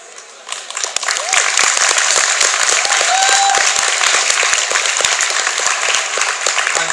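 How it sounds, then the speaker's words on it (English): Audience applause at a Transformers convention Q&A panel, Auto Assembly 2015, breaking out after a brief quiet moment and holding as a dense, steady wash of clapping from a large crowd for several seconds. "I'm so good with applause breaks, I really am."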